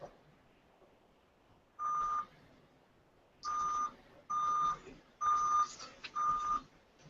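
Arcade game machines, including an Asteroids cabinet, give off a series of short electronic beeps: one isolated tone, then four more in a rough, uneven rhythm, heard moderately close over a low murmur of room noise.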